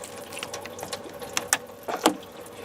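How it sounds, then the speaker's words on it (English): Hose clamps being worked off the radiator hoses of a 1998 Toyota Camry, with a few small metallic clicks and scrapes over a faint trickling background, close and brief. "We're gonna remove the clamps for the radiator hoses"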